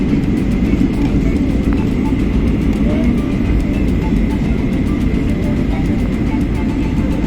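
An airliner cabin fills with a loud, steady engine roar and broadband rushing air as the plane descends toward landing, constant throughout with no talk.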